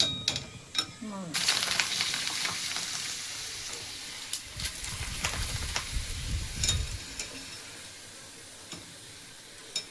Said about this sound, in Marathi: मी लोखंडाच्या कढईमध्ये तळते